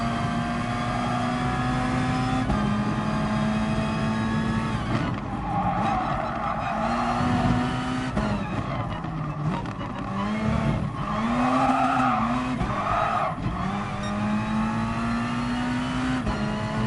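Race car engine in GT Sport revving hard with wheelspin under heavy throttle, a steady loud drone with rising and falling pitch sweeps and brief tire scrub, continuous for the whole stretch without talk.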